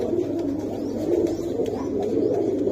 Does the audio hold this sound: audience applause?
no